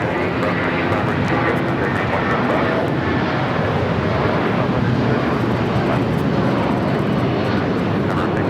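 An aircraft takes off at LAX, its engines a steady, broad roar that holds loud and unbroken throughout, with no talking over it.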